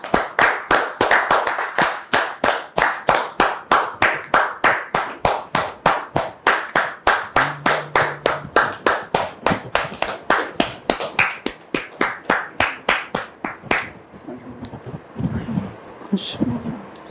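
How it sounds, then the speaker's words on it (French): An audience claps in a steady, unified rhythm, loud and close, with about three even beats per second, then stops abruptly as a voice begins talking. "Merci de recevoir notre frère sous vos applaudissements."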